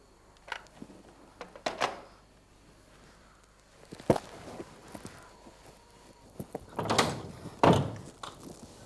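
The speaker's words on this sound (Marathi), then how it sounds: "लगेच दरवाजा उघडलास तू?" A door opens at night in a Marathi thriller scene, heard as scattered clunks and knocks of the latch and frame, mixed with what sounds like shuffling steps, fairly quiet with no talk.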